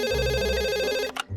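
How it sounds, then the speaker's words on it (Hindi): A telephone rings with a steady electronic tone, loud and close, cutting off abruptly near the end. "नहीं, फिर फोन आ गया।"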